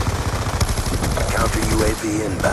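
Rapid gunfire from Call of Duty: Black Ops 2 multiplayer rattles steadily through the whole stretch, dense and close, with a player's voice talking over it.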